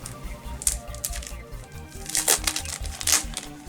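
A scrapbooking paper collection being handled, with steady crinkling and rustling of sheets and a few crisp sharper rustles, close and fairly loud without speech.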